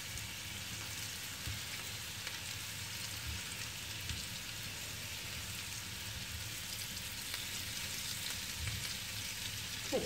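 Potatoes frying in a pan give a steady, dense sizzle throughout, close and even with no talk.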